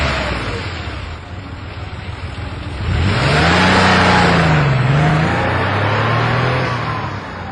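A car engine in a French radio drama revs up and pulls away, its pitch climbing sharply midway and then holding a steady drone as the car drives off, loud and close with no talk.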